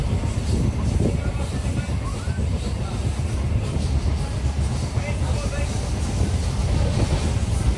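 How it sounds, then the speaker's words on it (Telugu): A passenger DEMU train runs along the line near Vellore Cantonment, a steady low rumble of wheels and engine with faint rhythmic clatter filling the whole stretch, heard from on board. "సో మన ట్రైన్ అయితే వేలూరు క్యాంటీన్ వచ్చేసి బయలుదేరిపోయింది"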